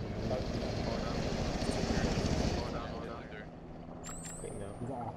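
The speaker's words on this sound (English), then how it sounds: "Chopper taking off, chopper taking off." Rotor and engine roar of a helicopter lifting off in ArmA 3, the military video game, loud and steady through the first half, then easing off and thinning out, with voices talking over it.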